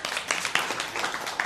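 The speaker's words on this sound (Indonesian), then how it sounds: "Tepuk tangannya dong." A group claps for a presenter at a classroom observation session, a short dense patter of applause, fairly close and moderately loud.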